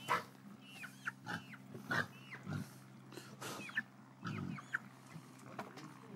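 Chickens and other farm animals cluck and call in short, scattered bursts on a farm, fairly close but soft, with pauses between the calls and no speech.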